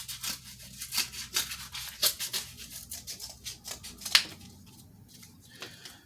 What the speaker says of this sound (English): you want to kind of angle your scissors and go around ever so gently at a very nice, consistent pace